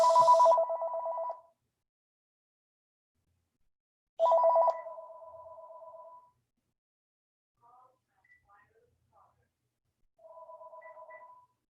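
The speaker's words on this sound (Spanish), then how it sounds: "Teléfono del guru." A telephone rings during a spiritual lecture on Vedic literature, with a loud opening ring, a second ring a few seconds later, then softer, fainter rings trailing off toward the end.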